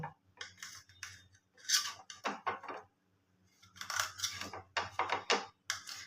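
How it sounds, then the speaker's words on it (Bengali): A knife slicing the crusts off slices of bread on a kitchen board, giving quiet clusters of crisp scraping and sawing strokes separated by short pauses. "আমি এখানে পাউরুটির ধারগুলো কেটে নেব"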